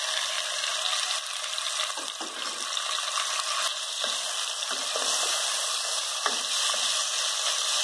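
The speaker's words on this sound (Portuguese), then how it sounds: "Vamos colocar a linguiça aqui para fritar." Tuscan sausage sizzling and frying steadily in a pan, a continuous close crackle with occasional stirring scrapes throughout.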